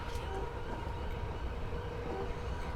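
A Class 421 electric train on the Portsmouth Direct Line rumbles steadily from inside a carriage, a constant low droning roll with faint tonal whine, with no voices over it.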